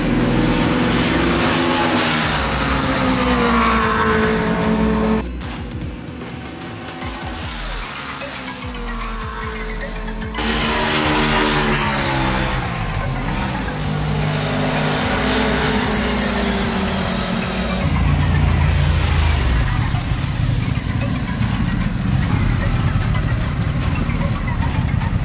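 Honda motorcycles, a pair of Transalps, a pair of CL500s and a pair of Hornets, rev and accelerate from a test-ride start line, engines rising and falling in pitch through several bursts, loud and close, with no voices.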